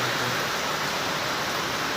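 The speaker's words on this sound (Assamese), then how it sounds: "বৰষুণ দি আছে তাতে" Steady heavy rain pours down on an outing headed toward Bongaigaon, a dense continuous hiss with no breaks or spoken voices.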